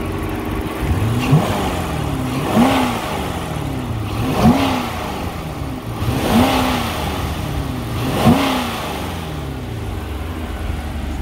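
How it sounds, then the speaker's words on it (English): A parked car's engine is revved repeatedly, five distinct blips rising and falling at roughly two-second intervals over a steady idle, close and clear with no talking. "I'm going to rev it up for you so you can hear it."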